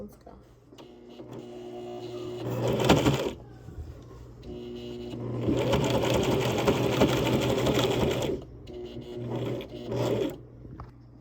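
Sewing machine zigzag-stitching an apron at stitch setting 4, running in steady whirring bursts of a few seconds each with short pauses between, and a brief spoken remark near the start.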